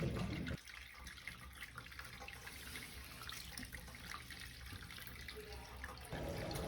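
Water runs from the drain valve at the base of a residential water heater tank, a steady trickling and splashing flow heard close up. A louder gush at the start and end frames a quieter stretch in the middle.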